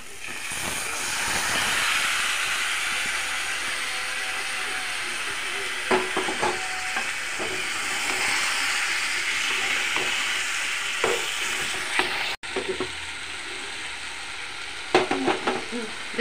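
Chicken leg pieces hit hot oil with marinated masala and sizzle loudly and steadily in the pan. Scattered clinks and scrapes of a stirring spoon sound up close.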